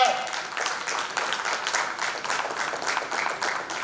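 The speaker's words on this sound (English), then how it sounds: "Can we have a round of applause" Loud, dense applause from a conference audience, steady and sustained throughout, with no pauses.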